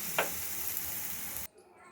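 Tomato with chilli powder and salt is sautéed in a pan for tomato chutney, making a quiet, steady sizzle with a brief stir. After about a second and a half the sound cuts off abruptly.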